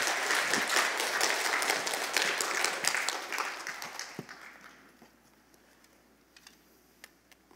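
A Korean church congregation in Orange County claps to welcome a guest pastor, with dense applause for about four seconds, then tapering off to scattered claps and near quiet.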